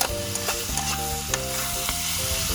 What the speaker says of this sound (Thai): ผัดไปเรื่อยๆนะคะ